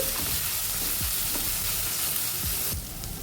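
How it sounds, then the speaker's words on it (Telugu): Onions, crushed garlic and curry leaves frying in a pan for a bitter gourd curry, producing a dense, even sizzle up close with occasional soft spatula scrapes and no voices. "ఇప్పుడు దంచి పెట్టుకున్న వెల్లుల్లి కూడా వేసుకొని ఫ్రై చేసుకోవాలండి ఉల్లిపాయలు కలర్ వచ్చేంత వరకు ఫ్రై చేసుకోవాలి"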